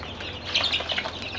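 Seven-day-old farm chicken chicks cheep in a close, busy cluster of high, thin peeps that repeat rapidly over a faint background hum.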